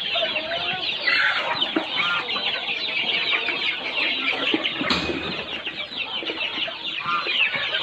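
Many chickens cluck and chirp continuously at a poultry farm where young chicks are kept in a wooden brooder, a dense steady flock chorus up close with a brief louder burst midway.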